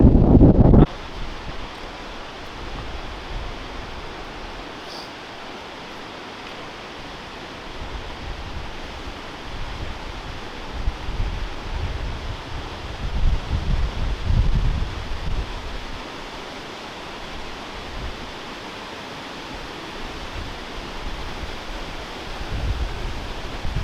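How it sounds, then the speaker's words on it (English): An Icelandic waterfall roars up close as a dense, continuous rush of water and spray that swells and eases, loud and steady throughout, with no talking. "I'm going to take you quite a bit closer to the waterfall."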